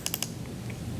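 Three quick plastic button presses on a graphing calculator, close and crisp, clustered at the start before a quiet background hum.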